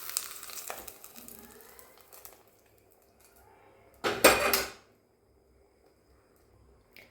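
Ingredients tipped into a pot of rajma sambar on the stove: a brief clatter of utensils early on, a quiet pause, then one loud scraping, pouring rattle lasting under a second before it fades to near silence.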